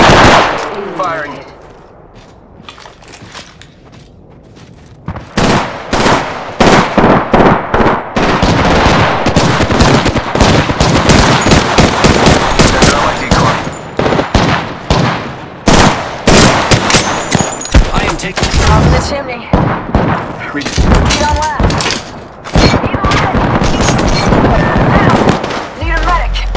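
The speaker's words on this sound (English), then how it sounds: "Firing." Gunfire from the video game Apex Legends: after a few quiet seconds, loud rapid bursts of automatic shots ring out in quick succession, with brief gaps between volleys.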